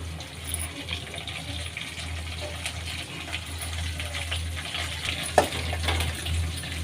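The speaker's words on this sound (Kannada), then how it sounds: "ಚೆನ್ನಾಗಿ ಫ್ರೈ ಆಗಲಿ ಎಣ್ಣೆಯಲ್ಲಿ." Curry leaves, green chillies, chana dal and urad dal sizzling in oil, a steady crackling hiss with a faint low hum underneath and one sharp pop, close and alone.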